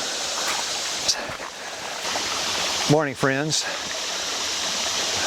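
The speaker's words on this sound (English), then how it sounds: "This is a little stream going through the hills near my little cabin." A small creek flowing through the hills near a cabin, with a steady, close rush of running water throughout. Someone speaks a brief greeting partway through.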